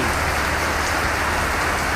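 Steady heavy rain pours down in a dense, even hiss, close and loud throughout the short stretch, with no voices or other sounds breaking through.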